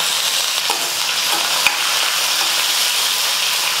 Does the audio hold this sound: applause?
no